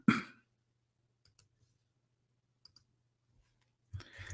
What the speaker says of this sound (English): Let us type in the screen.